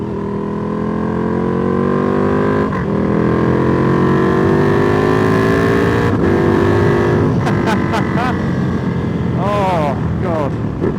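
A motorcycle engine drones loud and steady while riding along a road in Germany, harmonic tones rising and falling with gear changes and throttle, close up under wind noise.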